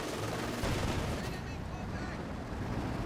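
A Panther tank fires its machine guns at an infantry crew in the Company of Heroes 2 strategy game: dense, rapid battle gunfire that runs without a break, with a commentator talking over it.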